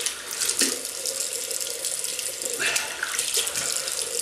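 A razor is rinsed under a running faucet. Close, steady water splashes and gurgles, with a few brief louder bursts as the blade passes through the stream. There is no speech.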